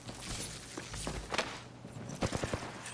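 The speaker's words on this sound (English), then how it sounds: "I am taking fire, friends." Gunfire in the tactical shooter Rainbow Six Siege sounds as a few scattered shots and short bursts, fairly faint and somewhat distant amid other game noise.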